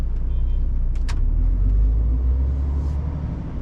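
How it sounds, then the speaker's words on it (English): Car working its way around a busy roundabout in traffic, a steady low engine and road rumble close by with a couple of brief higher squeaks, no talking. "a car trying to work its way around"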